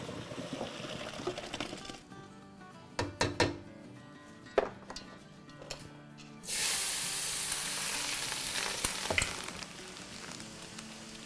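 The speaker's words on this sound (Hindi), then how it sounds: "पानी उबल रहा है शदीद तरीन।" Water boils hard in a pot in a home kitchen while rice is being cooked, a steady bubbling hiss broken by clattering utensil knocks before the boil surges louder and fills the rest of the clip.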